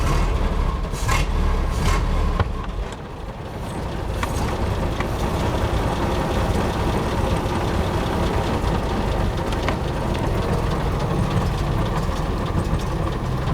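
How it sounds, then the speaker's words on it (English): A car engine with its exhaust cutout open roars loudly and steadily at close range, a harsh, throaty exhaust rumble that dips briefly before holding constant. "we can open the cutout so we can hear the engine a little better"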